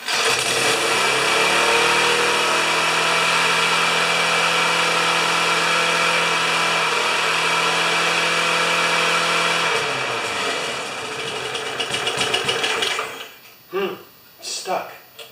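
A Briggs & Stratton small engine runs steadily at governed speed with a close, even drone, then falters and cuts out near the end as a voice speaks over the final seconds.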